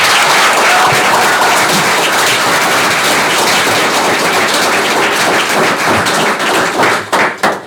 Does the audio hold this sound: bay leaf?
no